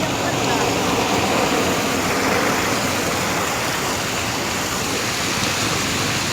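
Water fountains splashing in the plaza beside the KLCC Twin Towers in Kuala Lumpur, a loud, steady broadband rush of falling water with faint background murmur.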